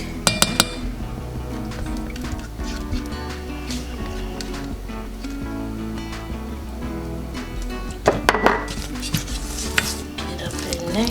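A spoon mixes an egg into small-batch cannabis-infused peanut butter cookie dough in a bowl, with repeated clinks and scrapes of utensil against the bowl at a close, uneven rhythm and no talking.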